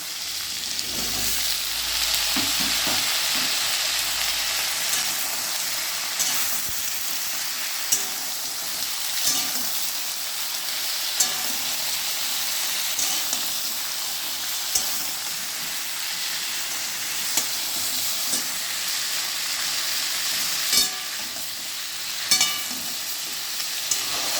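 Pointed gourd, potatoes and vegetable stalks fry in hot oil with a loud, steady hiss and crackle for a long stretch, broken now and then by sharp clinks and scrapes of stirring.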